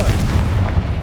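A Confringo blast spell in Hogwarts Legacy lands as one short, heavy boom with a rumbling low-end burst, loud and close, with no talk over it.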